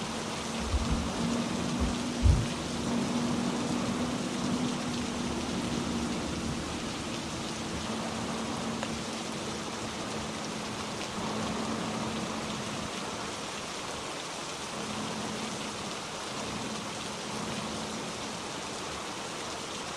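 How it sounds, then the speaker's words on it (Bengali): Heavy rain in the truck-driving game Truckers of Europe, a steady dense hiss of downpour holding at an even level throughout, with a low engine-like hum beneath and a couple of brief thuds near the start. "প্রচুর বৃষ্টি হচ্ছে"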